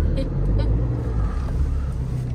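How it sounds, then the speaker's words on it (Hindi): A car's engine runs steadily up close as the driver brings the second vehicle around, a continuous low rumble with some voices audible over it. "ड्राइवर गाड़ी लेके आ रहा है दूसरी वाली।"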